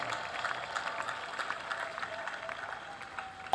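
A church congregation applauds and cheers in acclaim of Jesus Christ, a steady crowd clapping heard somewhat distantly at even volume throughout.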